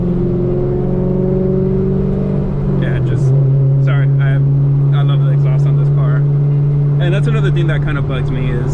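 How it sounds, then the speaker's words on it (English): Chevrolet Camaro SS exhaust droning loud while driving, a steady deep burble that shifts in pitch as the car changes speed, with someone talking over it. "I love the exhaust on this car"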